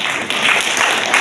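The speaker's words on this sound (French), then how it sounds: "Applaudissez-vous." Audience applause at a political thank-you tour speech in Natitingou, a dense, steady wash of clapping filling the whole moment at close range with no voice over it.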